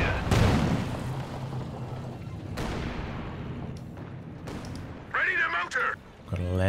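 Land Mattress rocket artillery in Company of Heroes 2, fired during a two-versus-two match: booming launches and rumbling impacts, mid-distance, under steady commentary talk, with whistling rocket sounds near the end.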